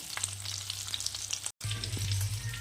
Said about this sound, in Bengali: চলো মাছটাকে একটু এপিটুপিট লাল করে ভেজে নামিয়ে নেব